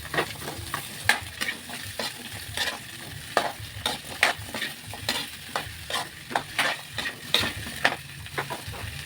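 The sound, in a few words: potatoes and carrots frying with garlic in a pan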